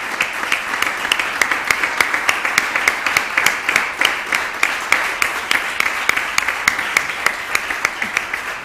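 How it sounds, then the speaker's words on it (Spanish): At the Murciano del Año award ceremony in Murcia, the audience breaks into applause that settles into rhythmic, evenly spaced unison clapping, steady and fairly loud throughout. "Y este aplauso de todos ustedes en este precioso momento."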